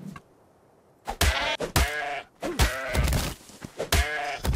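A sheep in ARK: Survival Evolved bleats several times, loud and close. The drawn-out, wavering calls are split by short pauses, with no speech.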